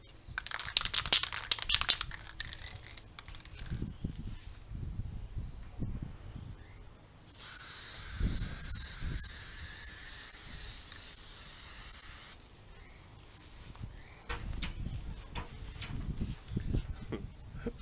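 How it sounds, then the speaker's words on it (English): Spray-on polyurethane varnish hisses from an aerosol can onto handmade waggler fishing floats, one loud continuous burst of about five seconds, bracketed by quieter handling clicks and rustling. "I'm going to try this spray on polyurethane varnish as well"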